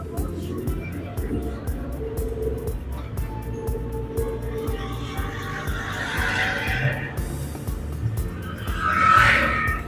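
Learner driver's car at a Himachal driving school, engine revving and droning steadily as the accelerator is pressed, with an instructor talking over it and the revs climbing near the end.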